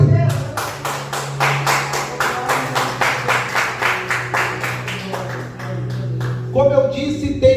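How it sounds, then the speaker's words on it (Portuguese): A church congregation claps in a steady rhythmic beat, loud and close, for several seconds before the clapping fades and a voice speaks. "dê uma salva de palmas para Jesus."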